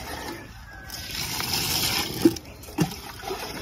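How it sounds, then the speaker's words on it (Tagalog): Water poured and stirred into rice bran feed on a farm, a continuous close sloshing and splashing with two brief louder splats near the end. "Tapos, timplan natin ng tubig."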